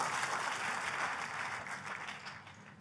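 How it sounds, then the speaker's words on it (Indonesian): An Indonesian church congregation claps enthusiastically during a sermon, a thick sustained patter of many hands that slowly fades toward the end, with no voices heard. "Tepuk tangannya yang paling meriah buat Tuhan kita."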